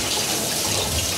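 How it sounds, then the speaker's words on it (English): A toilet flushing, a steady rushing gush of water at a constant level throughout, close by and alone without talking. "Toilet flushing."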